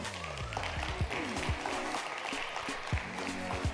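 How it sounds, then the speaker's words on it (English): Audience at a tech innovation awards event giving a warm round of applause, dense clapping throughout with scattered louder claps and some voices or whoops mixed in. "we want a very, very, very warm round of applause for everyone in here"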